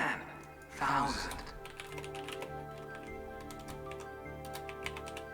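Rapid keystrokes on a computer keyboard clatter steadily during an online multiplayer strategy game session, soft and close, running under quieter background sound for several seconds.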